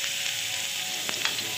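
Garlic ginger paste sizzles and fries in about a tablespoon and a half of hot oil in a pan, a steady hiss with a couple of brief louder spits and stirring touches.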